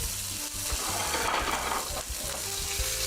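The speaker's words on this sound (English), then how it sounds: "Needs to be runny. Sizzling." An egg sizzles and crackles in a hot pan, a steady close frying hiss with a low hum underneath.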